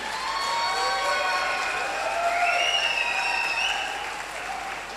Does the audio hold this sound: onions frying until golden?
no